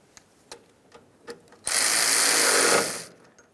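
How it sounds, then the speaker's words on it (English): A few light clicks of a hand ratchet are followed by a loud, sustained burst of a power tool tightening the horn mounting bolt on a 2003-2011 Mercury Grand Marquis, lasting about one and a half seconds. "Continue on with your mounting bolt. We'll start this in, snug it up."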